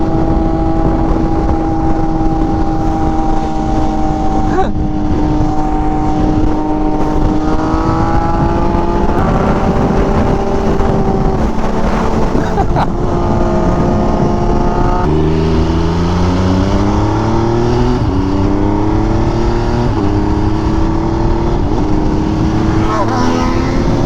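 MV Agusta Superveloce motorcycle with SC Project exhaust being ridden, engine note rising and falling through gear changes with a loud steady roar and wind, rider's voice faintly mixed in.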